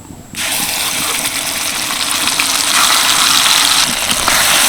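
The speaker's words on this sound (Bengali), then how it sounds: "এবার যে মশলাটা আমি রেডি করে রেখেছিলাম সেটাকে ভালো করে পেস্ট করে নিয়েছি এটাই কড়ার মধ্যে ঢেলে দেব" Spice paste tipped into hot butter and oil in a kadai while cooking butter chicken, setting off a loud, steady hissing sizzle that begins abruptly and keeps on with no voices.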